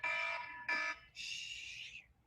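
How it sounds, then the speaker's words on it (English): A loud electronic timer alarm beeps in two short harmonic bursts, then shifts to a higher sustained shrill tone for about a second before cutting off, close and alone in a rehearsal room. "Timer's loud, sorry."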